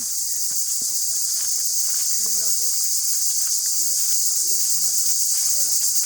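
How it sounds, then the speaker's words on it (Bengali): Crickets in a village jungle chirp in a loud, steady high-pitched drone, with faint footsteps and rustling underneath. "দেখো, ঝিঝি ডাক।"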